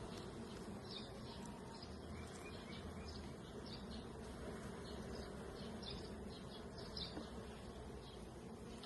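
Honeybees work at the hive, a steady close buzzing drone with individual bees zipping by, constant and unbroken, with birdsong faintly in the background.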